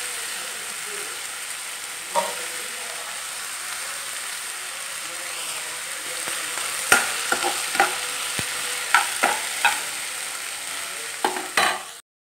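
Chopped onions with curry leaves and salt fry in a pan for egg curry, giving a steady close hiss broken by a run of sharp spoon scrapes and clacks from stirring in the later half.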